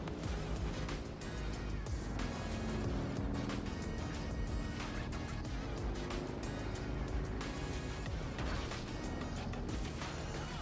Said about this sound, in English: The sand bike proved to be very useful despite making noise.